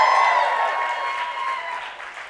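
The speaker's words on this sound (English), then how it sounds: "It's okay, you can cheer for Beyonce" An audience applauds and cheers for Beyonce, a loud wash of clapping with a high whoop at the start that slowly fades over a couple of seconds.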